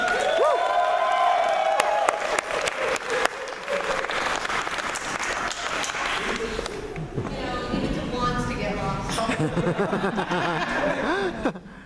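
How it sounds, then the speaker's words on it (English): Convention panel audience for a Power Rangers Wild Force panel applauding and cheering loudly, dense sustained clapping with whoops and some laughter, and voices talking over it throughout. "All right, everyone, round of applause."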